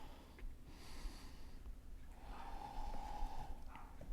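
Slow, audible yoga breaths through the nose and mouth, two soft airy exhalations close up against a quiet room.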